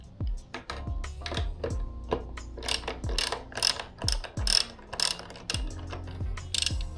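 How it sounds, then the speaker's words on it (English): A 10mm socket wrench ratchets while removing a bolt near the tail light of a Yamaha MT-15 motorcycle: close, crisp bursts of rapid clicking in an uneven rhythm, with short pauses between strokes. "Bring out your 10mm socket wrench again."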